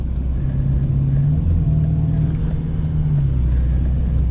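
Ferrari California T engine heard from inside while driving, a steady low rumble with a mild swell in pitch as it pulls, continuous and fairly loud with road noise and no talk over it.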